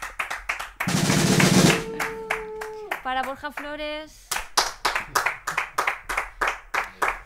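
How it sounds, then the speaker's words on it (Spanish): A short, dense burst of audience clapping at a live jazz trio show in a recording studio fades quickly, then someone speaks over quieter sounds. "un fuerte aplauso para Vicente Espín."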